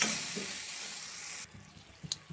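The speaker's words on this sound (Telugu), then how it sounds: "టమాటాలో ఉన్న నీరంతా ఇంకిపోయేలా ఉడికించుకోవాలి మంచిగా" Tomatoes cook down in a pan for coconut chutney, releasing a soft, steady sizzle and hiss that cuts off midway, followed by a couple of faint knocks.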